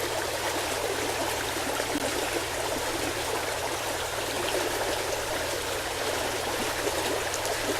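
Steady river water flowing along the Mecan River on a fall hike, a continuous broadband rush and trickle close by with no voices.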